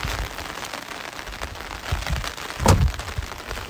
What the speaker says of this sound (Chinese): 这下好大的雨啊！